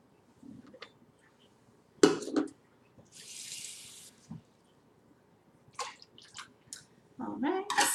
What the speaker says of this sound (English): So I'll start with a cup, a little over a cup of water.